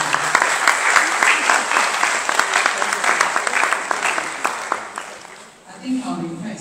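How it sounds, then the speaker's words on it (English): A lecture-hall audience at a university inaugural lecture applauds loudly and steadily, dense clapping that fades out near the end before a brief voice. "Please make that clap louder."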